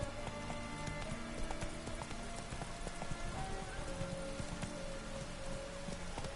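Horse hooves clip-clop steadily through rain in The Witcher 3, the hoofbeats close and regular over a constant hiss of rainfall, with a brief whinny.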